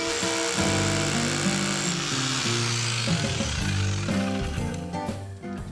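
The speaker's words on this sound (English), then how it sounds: "Phil sets up his hammer drill and begins boring holes at each mark" A hammer drill bores holes in the deck around a pool, a loud, continuous rapid hammering buzz that shifts pitch as the bit bites and eases off near the end.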